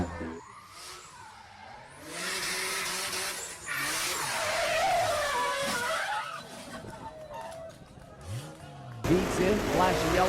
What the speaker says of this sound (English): Pete Barber looped that baby and smacked the wall hard.